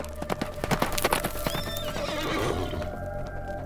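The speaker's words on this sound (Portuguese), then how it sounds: "Seguiu correndo, relinchando e soprando mata dentro." A galloping mule with rapid hoofbeats in front, followed by a loud neigh and snorting, close and vivid with no speech.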